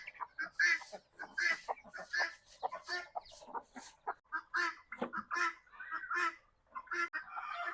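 Chickens and a rooster call from a backyard coop: a close, busy run of clucks, squawks and crowing bursts, fairly loud, with no talk.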